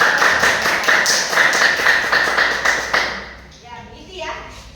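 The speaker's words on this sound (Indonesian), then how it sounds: "Terima kasih dan beri tepuk tangan." A classroom group applauds in steady, rhythmic unison, the even claps holding for a few seconds before trailing off, with faint voices mixed in.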